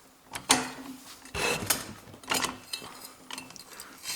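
Metallic clicks and ratcheting scrapes of a wrench working a 13mm bolt on a Ford Duratec HE starter motor, several short bursts spaced over a few seconds, close and fairly quiet.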